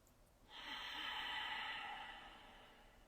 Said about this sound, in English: Continue breathing normally.